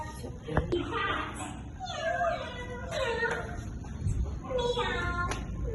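A voice imitates a cat's meow three times in a row, playing to a small child at home, each mewing cry rising and falling clearly over a soft room background.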